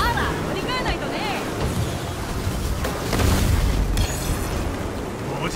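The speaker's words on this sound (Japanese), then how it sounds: "文字通りの大炎上だ。" A car blows up and bursts into flames in the video game Destruction AllStars, a booming blast with crackling fire amid arena noise, heard under an announcer's commentary and crowd hubbub.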